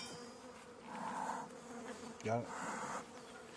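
Honey bees buzz steadily around a newly split hive during an inspection, a close, continuous drone with a louder swell near the middle, while a person speaks briefly.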